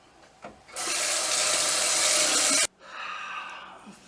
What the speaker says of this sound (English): A few splashes of Aqua Velva